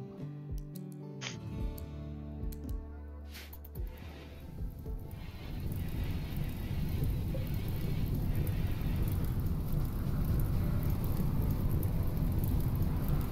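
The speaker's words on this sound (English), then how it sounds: "Now it's raining." Steady broadband rain hiss in The Colonists video game, beginning softly under some game music and tones, then swelling after a few seconds into a continuous, fairly loud downpour that lasts to the end.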